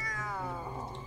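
A cat in the video game Soul at Stake lets out a single drawn-out meow with a falling pitch, clear and fairly close over a low background hum.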